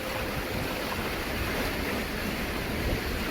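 Strong ocean waves crash and surge under wind and rain on a stormy coast while a net is cast, forming a dense, continuous roar with no breaks.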